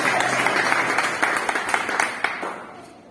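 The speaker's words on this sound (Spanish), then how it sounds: "¿Cuántos damos un aplauso a Dios por su esposa?" A church congregation applauds together in a dense, steady wash of many hands that fades toward the end, with no speech over it.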